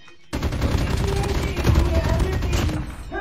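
Machine gun fire in a video game rattles in a dense, continuous loud burst for about three seconds, beginning abruptly after a moment of quiet.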